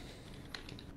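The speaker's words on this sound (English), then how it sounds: "I can hear him typing." Faint, sparse keyboard typing from a player during an online session of the MMORPG Pantheon: Rise of the Fallen, a few soft clicks over a steady background hum.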